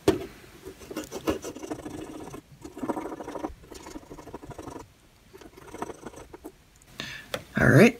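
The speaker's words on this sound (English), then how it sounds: "we'll just take some rubbing alcohol and clean up all of that disgusting flux" Flux is scrubbed off a Toshiba T2200SX laptop LCD circuit board with rubbing alcohol, giving close, rasping rubs in uneven strokes with short pauses between them, and someone talks over part of it.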